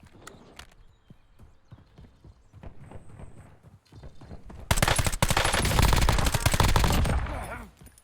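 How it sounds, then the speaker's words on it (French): Rapid automatic submachine gun fire in the Call of Duty Black Ops video game, a loud sustained burst after quieter scattered game sounds and a few isolated shots. "Ah, cette mitraillette, tu peux rien faire."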